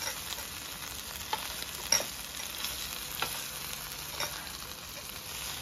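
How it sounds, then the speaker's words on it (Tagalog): Beef pepper rice being stirred on a hot sizzling plate, a steady frying hiss with soft scraping stirs scattered throughout, close and moderately quiet with no talking. "Ayan, hinahalo na natin."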